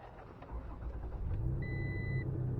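A truck engine idling and then revving as it strains to pull a stuck object tied to it from the New River, a steady low hum building louder, with a brief high whine midway.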